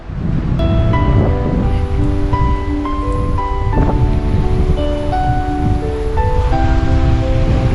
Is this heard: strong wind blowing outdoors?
yes